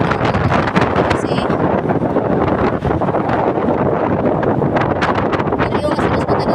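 Strong wind roars and buffets continuously, with gusts rumbling right against the microphone.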